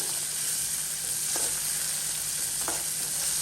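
Tomato sautéing in a pan for Kathiyawadi dahi tikhari, a dense steady frying sizzle close up with two faint scrapes of a spatula, no talking.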